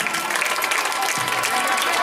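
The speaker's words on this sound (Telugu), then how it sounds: "your big hand చప్పట్లతోటి కరతాలతో మారుమోగిపోవాల" Sustained applause from the audience at a school retirement function for a teacher, dense steady clapping filling the whole moment, with faint voices underneath.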